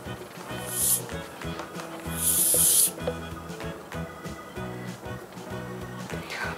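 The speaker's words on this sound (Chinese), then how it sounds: "然后现在呢要用到我们的防水喷雾" Waterproof aerosol spray hisses onto a thin layer of sand spread over paper, in two bursts: a short one, then a longer spray, heard over steady background music.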